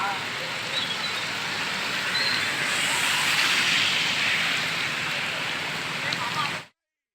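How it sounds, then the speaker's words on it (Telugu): Heavy rain pours steadily in Hyderabad, a dense, even hiss that holds at the same loudness for about six and a half seconds before cutting off abruptly; no thunder stands out. "హైదరాబాద్ లో పలు చోట్ల ఉరుములు మెరుపులతో కూడిన వర్షం పడుతుంది."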